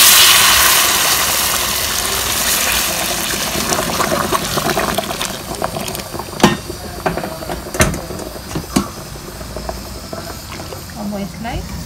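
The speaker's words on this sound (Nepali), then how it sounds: "उमालिराखेको पानी हालिदिन्छु" Boiled water poured into a pot of egg curry, a steady liquid rush and fill with a few sharp clinks near the end, close and fairly loud, with some talk over it.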